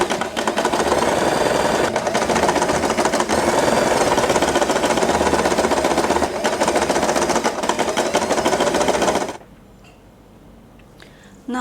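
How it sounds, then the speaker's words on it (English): Sewing machine stitching along a fabric edge for a knotted headband, a steady close mechanical whir that runs continuously for about nine seconds and then stops, leaving quiet room tone. "Sew it right on the marker."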